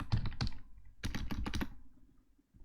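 Rapid bursts of typing on a computer keyboard while entering code for a DHT22 temperature sensor, close and crisp clusters of keystrokes with brief pauses between them.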